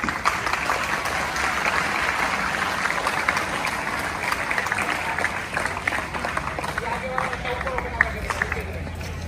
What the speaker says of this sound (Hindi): बेटा तालियों के साथ